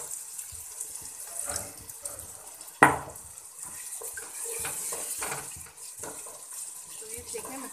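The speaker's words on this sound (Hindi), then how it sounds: "हल्का सा पानी का छींटा लगाऊंगी" Water is splashed into chicken methi masala frying in a pan, giving a quick sharp splash and sizzle that settles into a steady hiss and crackle of cooking.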